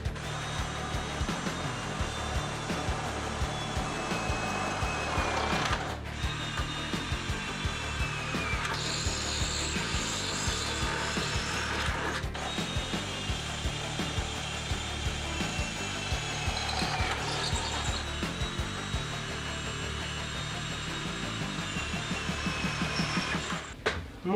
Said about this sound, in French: Pour faire les trous sur le montant